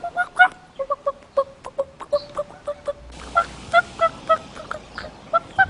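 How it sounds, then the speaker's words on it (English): A staged chicken sound effect during a refugee concert performance clucks in a steady run of sharp, bright calls, loud and close, continuing alone without talk. "My father tried to steal a chicken."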